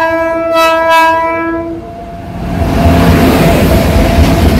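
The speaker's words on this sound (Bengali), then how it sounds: "সিকিম মহানন্দা এক্সপ্রেস অ্যাপ্রোচ করছে, তবে ডিজেল ইঞ্জিন পেলাম না, সেই ইলেকট্রিক ইঞ্জিনই।" The Sikkim Mahananda Express, hauled by a WAP7 electric locomotive, approaches in the Dooars with a loud, sustained horn blast, and a heavy rumble of wheels and carriages swells as it nears.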